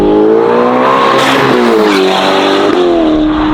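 A 704 hp Novitec-tuned Ferrari Roma Spider accelerates hard, its engine note climbing loudly through rising harmonics, dipping briefly at a gear change and climbing again, heard close from inside the car with no talk.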